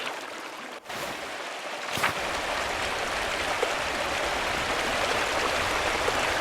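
A waterfall at a shrine in the video game Pentiment gives a steady, rushing water roar after a brief dip and a short gap. It builds into a continuous, fairly loud wash with no voices.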